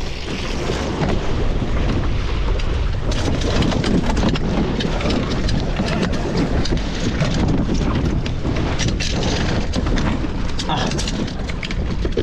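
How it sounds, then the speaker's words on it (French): Loud, continuous wind buffets and roars across the microphone on a sailboat, with gusty rumbling that never lets up. "Mais il y a déjà plus de vent que là-bas."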